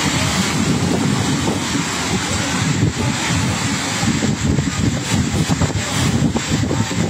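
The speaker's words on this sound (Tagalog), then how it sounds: "Mas malakas ito kaysa sa kaninang madaling araw na hangin." Strong typhoon wind howls steadily in Catanduanes, a loud, dense roar that rises and falls in gusts throughout without letup.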